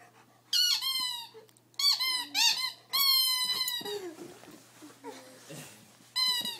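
A squeaky Angry Bird toy squeaks loudly in repeated long, wheezing bursts as it is caught, with gaps between them and quiet voices murmuring in the background.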